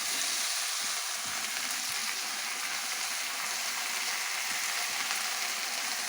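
Chopped amaranth leaves fry in oil with a constant, fairly soft, hissing sizzle that stays even from start to finish, heard alone with no talk.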